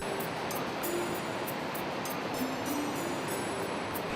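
The Marsyangdi River rushes loudly near a trail with a waterfall close by, a steady, broad roar of churning water that holds constant throughout.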